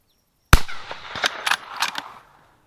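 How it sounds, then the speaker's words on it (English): A big game rifle cracks once sharply and close, followed by a quick string of quieter follow-up shots and echoing reports trailing off over about a second and a half. "Let's load up and try a couple shots."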